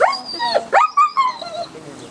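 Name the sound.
dog barking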